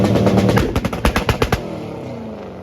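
A 1956 Chevy with a slipping clutch does a burnout at a track day: a loud burst of rapid, staccato engine pops and revs that then fades into a lower, steady rumble.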